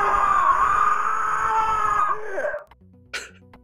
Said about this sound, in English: God, that scream.